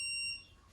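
A single short, high electronic beep from a Hansshow car power trunk controller sounds up close, then stops, leaving quiet background hiss.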